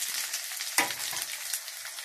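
Potatoes fry in a pan with a steady, close hiss of sizzling oil and one sharper stir or clatter partway through, with no one talking.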